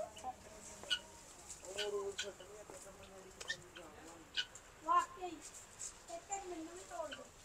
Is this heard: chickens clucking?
yes